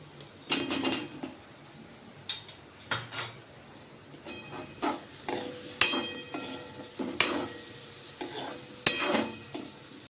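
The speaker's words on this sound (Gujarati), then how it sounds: "તો આપણે મસાલો પાકી ગયો છે, તેમાં બોલ્સ એડ કરશું." Potato balls for aloo 65 tumbled into a pan of cooked masala and stirred, with a string of close, irregular spoon scrapes and clinks against the pan and a soft sizzle beneath, no talking.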